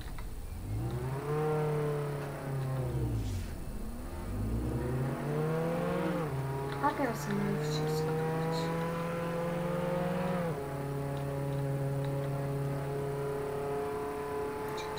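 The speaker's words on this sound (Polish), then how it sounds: "On se lata autem." A car engine in Roblox revs up and down in repeated sweeping surges, then settles into steady driving drone, with a brief voice speaking over it.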